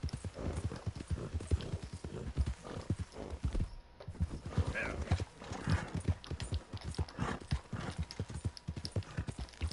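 A horse gallops in the video game Red Dead Redemption 2, a rapid, steady clip-clop of hooves that runs nearly the whole time, briefly thinning for a moment before picking back up.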